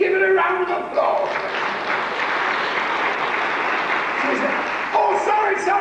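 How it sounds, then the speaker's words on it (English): A theatre audience at a comedy show breaks into loud, sustained applause, a dense wash of clapping that swells and holds steady, with a few voices and cheers poking through near the start and end. "Give her a round of applause."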